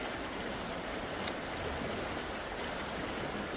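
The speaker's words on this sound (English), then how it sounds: "this is mainly a spring-fed creek" A spring-fed creek in Indiana flows in a steady, quiet rush of water that holds unbroken throughout, with no voices.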